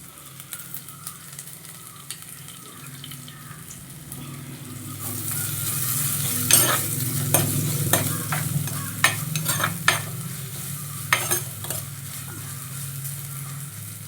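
Chopped onion sizzles steadily in a pan for mackerel curry, building to a louder fry as a spatula stirs and scrapes with repeated sharp strokes, close and without talk.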